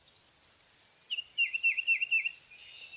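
Tufted titmouse song: a short series of clear, repeated whistled notes in a quick rhythm, moderately close against a quiet background, with no talking.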